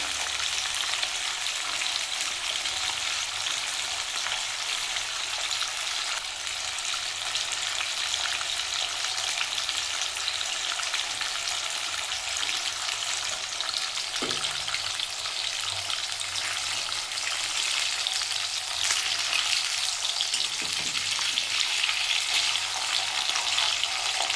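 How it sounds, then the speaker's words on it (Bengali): Hilsa fish pieces fry lightly in hot oil in a home kitchen, giving a steady, dense sizzle throughout with a couple of soft clinks of a utensil near the middle, and no talking. "আমি হালকা করে মাছটা ভেজে নেবো"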